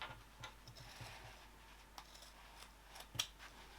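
Scissors trim fabric along a curved seam, giving soft, faint snips spaced irregularly, with one crisper cut near the end, close and quiet.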